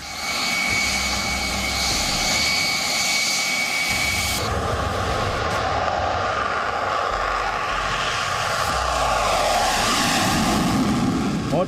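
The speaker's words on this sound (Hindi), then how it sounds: "ताइवान ने सबसे एडवांस्ड और मिसाइल से लैस फाइटर जेट को अपनी मिलिट्री ड्रिल में उतारा है" A missile-armed fighter jet roars steadily overhead during a Taiwanese military drill, its engine noise loud and sustained, with a brief tonal layer at the start.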